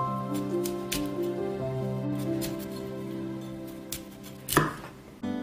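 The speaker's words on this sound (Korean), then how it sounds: "브로콜리의 줄기와 송이 부분으로 나누어지게 잘라주세요" A knife chops through broccoli on a cutting board, separating stems from florets; a run of sharp, close cuts comes at an uneven pace, with one louder chop near the end and no talking.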